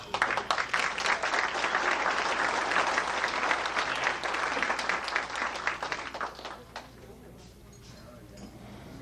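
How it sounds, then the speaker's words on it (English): Applause at a 1992 community award banquet, a dense run of hand claps that fades after about six seconds into scattered claps, with voices talking beneath as it dies down. "And another round of applause to my dad and to Bob."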